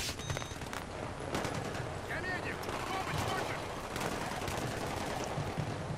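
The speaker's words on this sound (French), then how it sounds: "Pourquoi je me fais tirer?" Rapid bursts of gunfire aimed at the player in the shooter game Battlefield 3, dense overlapping shots cracking in a steady barrage throughout, near and loud over a constant battlefield din.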